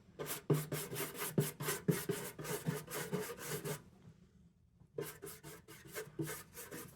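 A junky brush scrubs treatment onto a vintage Lisk metal lunchbox pail in quick, rhythmic rasping strokes, close and fairly soft, pausing for about a second before the brushing resumes.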